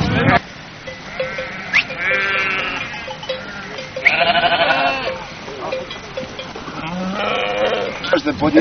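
Sheep bleat repeatedly, several overlapping calls close by, with people talking in the background throughout.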